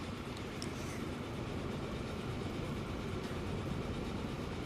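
A train in the video game Transport Fever 2 rolls into a station with a steady, even rumble of wheels and engine, unbroken and moderately quiet.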